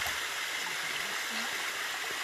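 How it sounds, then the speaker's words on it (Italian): Small waterfall on a mountain stream in a valley, a steady broadband rush of falling water filling the whole stretch at close range, with no voices over it. "piccola cascata che porta l'acqua da su in basso in questa valle"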